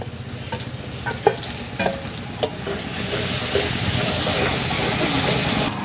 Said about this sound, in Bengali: মশলা কষানো হয়ে গেছে, ভাজা সবজিগুলো দিয়ে দেব।